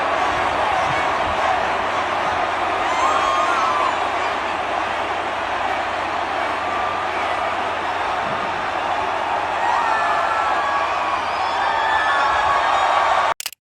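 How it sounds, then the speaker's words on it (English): Huge concert crowd at a show roaring and cheering in a dense, continuous wall of noise, with scattered whistles and shouts rising above it. "here's the GOAT himself getting the applause from all the bots"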